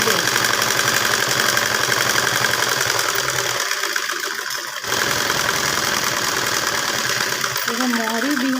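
Sewing machine stitching elastic trouser seams from the pocket down to the hem, a fast continuous mechanical whir running almost throughout with a brief slowdown midway.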